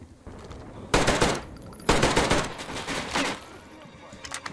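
An enemy fires a big gun in Metro Exodus: two loud, close automatic bursts, each tailing into rattling shots, then a quieter burst and a few scattered shots at the end.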